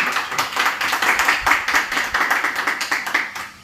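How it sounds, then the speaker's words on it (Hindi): An audience claps for students at a mobile phone repair training center, steady dense clapping throughout with no talk. "एक बार जोरदार तालियां भी इनके लिए।"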